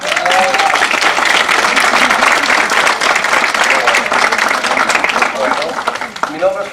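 A crowd of guests at a business gathering applauds loudly and continuously, dense clapping filling the whole stretch before fading slightly at the end, with a voice speaking over it.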